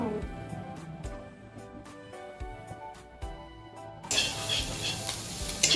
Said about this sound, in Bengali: এখন চিংড়ি মাছটাকে ভেজে নিচ্ছি